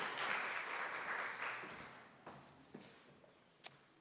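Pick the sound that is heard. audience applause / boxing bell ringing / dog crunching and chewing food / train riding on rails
audience applause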